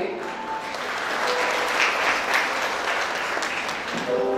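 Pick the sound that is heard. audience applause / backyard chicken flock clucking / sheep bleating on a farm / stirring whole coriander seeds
audience applause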